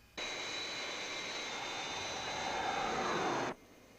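Fireflash airliner's jet engines on approach, a steady, loud, continuous roar with a thin high whine that starts and stops abruptly after about three seconds.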